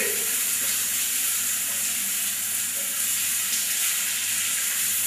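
Black mustard seeds fry in oil with a steady, close, hissing sizzle and faint scattered pops throughout, without speech.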